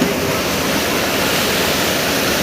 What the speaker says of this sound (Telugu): వాటర్ ఫ్లో చాలా స్పీడ్గా ఉన్నది